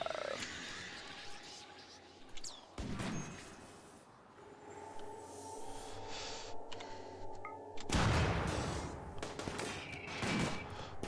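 Colonists open fire in RimWorld, with bursts of rapid gunshots crackling in dense volleys. The shooting eases in the middle of the clip, then surges again loudly near the end.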